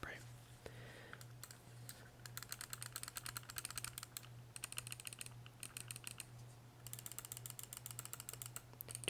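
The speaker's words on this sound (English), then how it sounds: "Do you guys like the sound of the mouse clicking?" A computer mouse clicks close to the microphone in quick, light bursts separated by short pauses, with a low steady electrical hum underneath.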